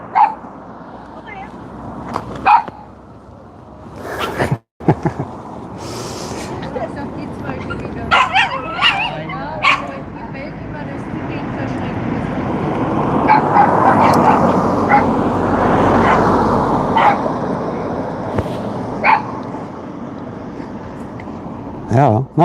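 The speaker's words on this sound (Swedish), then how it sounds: "en hund som vill gå med" A dog barks and yips among a street crowd at a Santa parade in Gran Canaria, with short bursts scattered through steady chatter and someone talking nearby.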